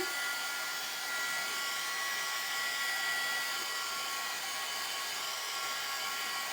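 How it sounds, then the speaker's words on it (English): A steady, close whoosh of a hair dryer running continuously, with a slightly rough airy hiss and no voices. "I'll hit it with the dryer"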